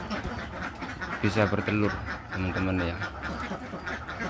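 Laying ducks on a farm quack in short bursts close by, under someone talking.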